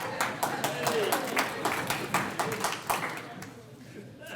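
Sparse applause at a Scout award breakfast welcoming Jack Lyburn, a handful of distinct claps in loose rhythm that thin out and fade, with speech over them.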